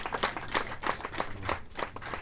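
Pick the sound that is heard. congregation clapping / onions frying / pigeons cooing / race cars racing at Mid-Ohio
congregation clapping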